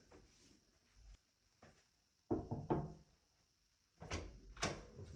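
Someone knocks rhythmically on a door in the Alien: Romulus video game, giving several loud, hollow thuds in short bursts with quiet gaps between them.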